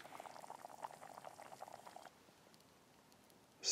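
A tomato sauce meal bubbles in a pot over a wild campfire, dense steady popping and gurgling heard close up for about two seconds before fading to a softer simmer, with a brief bump at the end.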